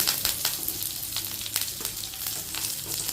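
Onion, curry leaves and garlic frying in hot oil for a tomato chutney, a dense close crackling sizzle with frequent sharp pops and spatters throughout.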